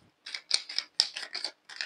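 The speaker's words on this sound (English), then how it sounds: "One last shuffle." Tarot cards are shuffled up close in a quiet room, about seven short crisp bursts of riffling and slapping in quick succession, with brief silences between them.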